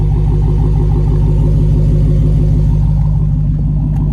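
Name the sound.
2023 Dodge Challenger SRT Redeye engine rumbling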